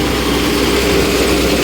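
Mahindra NOVO 755 CRDI tractor diesel engine running steadily outdoors, a loud continuous low rumble with even throb and no variation.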